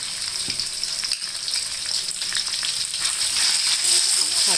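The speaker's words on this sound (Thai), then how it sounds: "เราก็เจียวกระเทียมก่อนนะคะ ใส่หมูสามชั้นค่ะลงไปเลยค่ะ" Pork belly frying with garlic in a pan for a bamboo shoot stir-fry: loud, continuous hissing sizzle that grows slightly stronger, with occasional stirring knocks and no talk.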